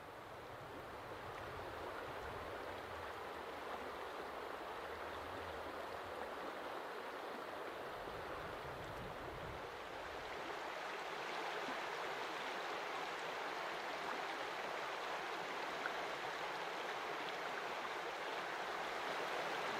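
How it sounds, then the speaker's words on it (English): A river flows past a campsite in Wyoming, a soft, steady rush of water that holds evenly throughout, faint and unbroken, with no voices. "There's nothing quite like sitting next to a picturesque river"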